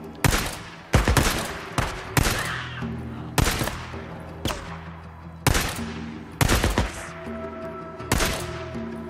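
Gunfire in the Days Gone video game, a series of loud sharp shots with echoing tails, spaced roughly a second apart and sometimes doubled, with no voices.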